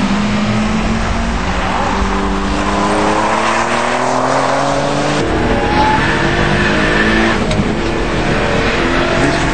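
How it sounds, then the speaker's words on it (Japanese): Race car engine droning loudly from inside the cockpit of a Puma GTO during a Super Taikyu race, with a whining, rising differential noise layered over the roar; no talking. "デフの音が出てきたよ。"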